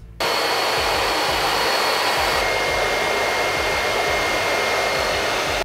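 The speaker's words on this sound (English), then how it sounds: "Next, I'm gonna blow dry it." A hair dryer blows steadily and loudly after switching on, a continuous close-up rushing whoosh with a constant tone that holds without pause for several seconds while drying hair during a grooming routine, with no voices.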